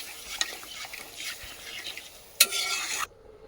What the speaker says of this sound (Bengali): এখন কিন্তু আমি জল দিয়ে দেবো